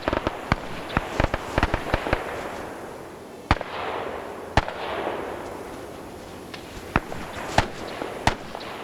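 Sharp gunshot cracks in a WW2 video game, clustered rapidly at first then spaced out, some echoing with a trailing rumble; no voices.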